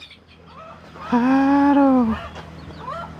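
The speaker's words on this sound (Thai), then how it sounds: "มีเสียงไก่ขันกระตอก" A rooster crows once on a farm in rural Thailand, a loud, drawn-out call lasting about a second, with faint talk and background noise around it.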